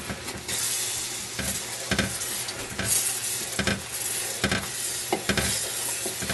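Red chile gravy bubbles and sizzles in a soup pot, a steady close hiss broken by a few sharper stirring pops and scrapes, with no talking.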